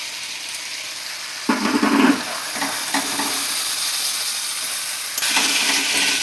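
Spice paste frying in oil with softened tomato for potol dorma, stirred in a pan with a steady sizzle and scraping bursts of the spoon, close and moderately loud.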